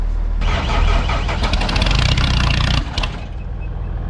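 A homemade cultivator built from scrap metal fires up, its small engine catching with a loud, rough burst and settling into a steady mid-pitched run that drops to a lighter idle near the end.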